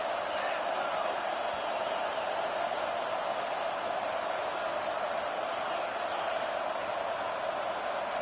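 A packed stadium crowd at an American football game roars on third down, a dense, steady wall of noise that holds loud and even rather than audibly swelling.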